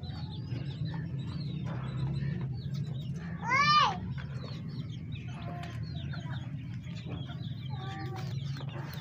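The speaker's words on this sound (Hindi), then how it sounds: "ये रही वो मुर्गी, नाम मुराद मुर्गी, जिसने मुझ पर हमला किया।" A hen clucks and squawks among other bird calls, with one sharp rising cry standing out over a low background hum.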